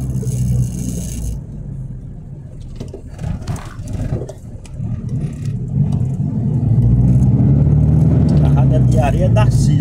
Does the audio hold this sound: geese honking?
no